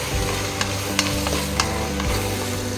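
Chopped beans go into a sizzling pan while cooking vegetable biryani, producing a continuous close frying hiss with a few sharp clinks and scrapes of stirring and no talking.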